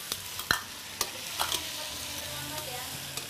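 Onion, garlic and chili stir-fry in a pan with a steady low sizzle, punctuated by several sharp clacks of a spatula scraping and stirring, close and without speech.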